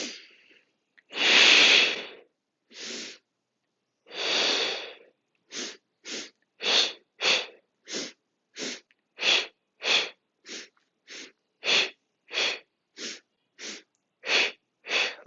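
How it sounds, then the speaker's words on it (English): Percussive breathing during a knee workout: after a few longer breaths, a rhythmic series of short, sharp sniffs and puffs repeats steadily at close range, in through the nose and out through the mouth. "Little sips of air, that's the percussive breathing that is known through Fletcher work"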